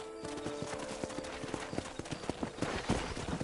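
A horse gallops in Red Dead Redemption, hooves pounding in a quick, steady clip-clop rhythm close by, building louder toward the end, with a faint whinny-like tone underneath.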